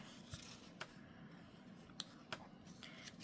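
Paper card being folded and creased by hand at a craft table: soft, quiet rustling with a few sharp little crinkle snaps spread across the clip, no voices.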